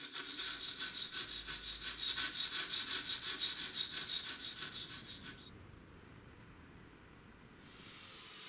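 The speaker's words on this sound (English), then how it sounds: "Since this is a retired bandsaw blade I decided to sharpen the tooth I was working with." A file rasps across a tooth of a retired bandsaw blade to sharpen it, a quiet, steady run of rhythmic back-and-forth strokes, then the scraping stops.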